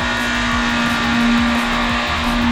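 A car engine hums steadily nearby with a strong constant tone and repeated low swooshing passes, loud and unbroken, with no talking.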